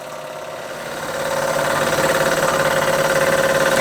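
Bing overtype model steam engine with a slide valve running steadily, a rapid even mechanical chuffing with a sustained hum that swells after the first second and then holds loud and close.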